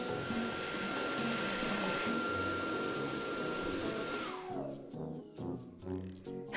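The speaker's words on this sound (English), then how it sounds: "Bunny pulls their hands out very slow, so you can feel the dryer blow." A steady rushing blast of air from a hand dryer, close and constant for several seconds, then it shuts off with a falling whine and a few soft knocks.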